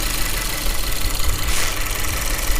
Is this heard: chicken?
no